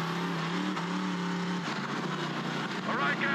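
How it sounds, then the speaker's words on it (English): Ol' Blue, a Ford truck at Truck Night in America, roars down a straightaway. A loud engine drone shifts pitch partway through as it revs and speeds past, with a voice speaking over it. "He's hauling ass on the straightaway with all that Ford power"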